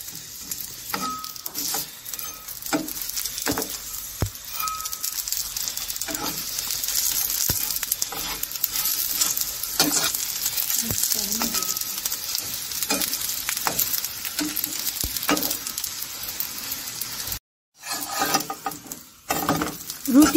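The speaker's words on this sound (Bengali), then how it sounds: "এরপর এখানে আমি সামান্য তেল দিয়ে আবারও ভেজে নেব।" Cauliflower paratha (phulkopi porota) frying in a little oil in a pan, a steady close crackling sizzle with scattered pops and stirring scrapes throughout, briefly cutting out near the end.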